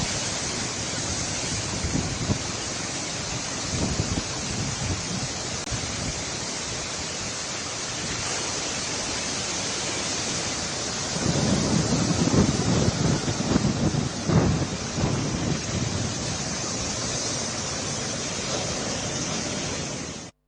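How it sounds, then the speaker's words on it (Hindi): Strong wind and rising sea waves on the Kakinada coast ahead of Cyclone Montha, a constant loud roar of gusts buffeting the microphone with surf churning underneath. "काकीनाडा के साहिल पर समंदरी लहरें बढ़ चुकी हैं।"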